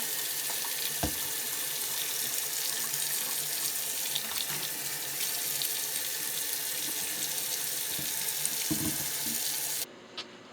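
Tap water runs steadily into a sink while reverse osmosis filter housings are washed with mild soap, a constant close hiss with a few soft clunks of handling before it cuts off near the end.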